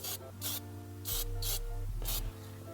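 Spray primer hissing onto car bolts on a home-built Datsun 240z, four or five short sharp bursts with pauses between them, close up, over a steady low hum.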